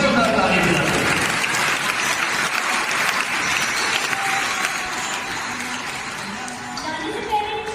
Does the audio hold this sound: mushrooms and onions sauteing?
no